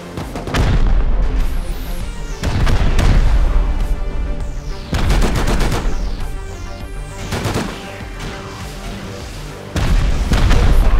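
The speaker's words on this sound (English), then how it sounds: "That's like a lot of rockets now." Rocket explosions pound base walls in the survival game Rust, a run of heavy booming blasts every couple of seconds, loud and close, with a low rumble between impacts and no talk.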